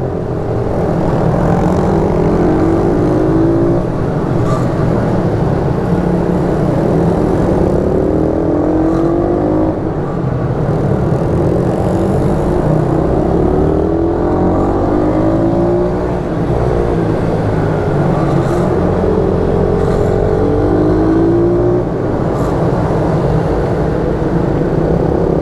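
A YCF 88 mini motorbike races around a karting circuit in Normandy, its small engine loud and close, revving up and down in repeated rising sweeps as it laps continuously.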